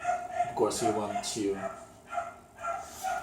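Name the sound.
dog barking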